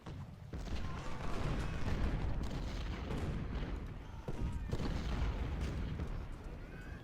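Distant artillery barrages rumble and thud in an Ultimate General: Civil War battle, a continuous dense roar of booms and gunfire with repeated heavier shots standing out.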